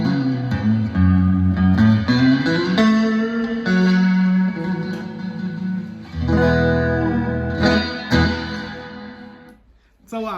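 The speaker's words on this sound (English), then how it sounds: "It's a lot of reverb." A 2013 Fender Stratocaster American Standard electric guitar played through heavy reverb, sustained chords ringing and washing into long echoing tails, with shifting notes and a brief fade near the end.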